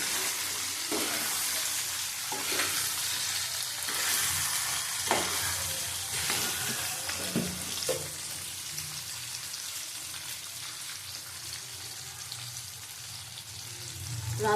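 Papaya and potato pieces fry in a pan with a steady, crackling sizzle, broken by occasional scraping stirs of a spatula, heard up close with no one talking.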